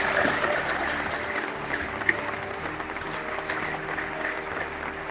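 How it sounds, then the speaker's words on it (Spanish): Members of Congress applaud the president in sustained, dense clapping that fills the chamber at an even level, with one sharper clap standing out near the middle. "la mayoría de los miembros del Congreso sonó, como siempre, aplaudiendo al presidente"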